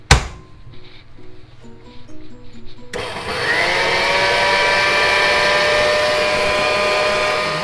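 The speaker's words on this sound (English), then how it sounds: "Now we whisk it up until it forms peaks. Here we go with the Kenwood chef." A Kenwood Chef stand mixer starts up after a few seconds of quiet clatter and whisks steadily, a loud, even, continuous whir with a high whine that holds to the end as it beats the mixture to peaks.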